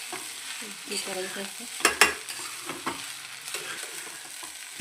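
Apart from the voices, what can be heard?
stirring sabudana khichdi frying in a pan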